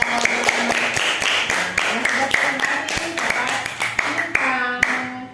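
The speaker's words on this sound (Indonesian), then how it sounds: "Tepuk tangan untuk kelompok 3." Classroom clapping for a student group, a loose rhythm of sharp individual handclaps with a teacher's voice speaking over them throughout.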